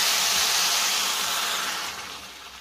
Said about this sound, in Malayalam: 1 കപ്പ് വെള്ളവും കൂടി ഇനി ഒഴിച്ച് കൊടുക്കാം.